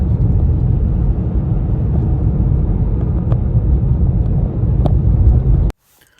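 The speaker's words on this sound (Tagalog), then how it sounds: "tignan nyo mga kababayan yung tunog ng hangin dahil napakalakas nga" Strong wind during a snowstorm in Canada, heard from a moving car: a loud, steady roaring rumble that runs without a break, then cuts off sharply near the end.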